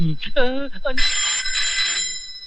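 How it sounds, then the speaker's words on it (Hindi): A voice speaks briefly, then a telephone bell starts ringing, bright and loud, continuing steadily for over a second. "फोन बज रहा है तेरी।"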